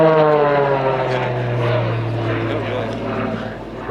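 Propeller-driven aerobatic display aircraft from The Global Stars team drone overhead at Little Gransden Airshow, a loud steady engine tone with rich harmonics slowly fading, under a commentator's voice.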